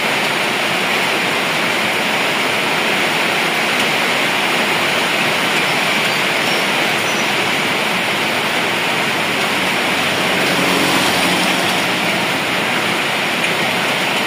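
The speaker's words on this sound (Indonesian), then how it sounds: "sambil mendengarkan gemericik suara hujan" Heavy rain pours steadily, a dense unbroken roar of water close by with no voices.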